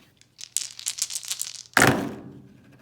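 Six dice for a board game are shaken in a hand with a quick, light rattle. They are then dropped onto the playing surface in one sharp clattering burst that fades over a moment.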